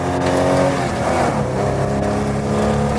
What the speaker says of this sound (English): Roy Dixon's at the wheel of the Zephyr when a mere Volvo 544 dares to overtake, with John Handley driving it.